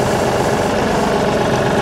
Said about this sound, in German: Aber der Motor ist schnell gestartet.